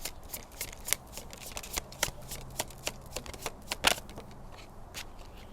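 Oracle cards are shuffled in a tarot reading, crisp riffling flicks and snaps repeating steadily close to the mic with no one talking.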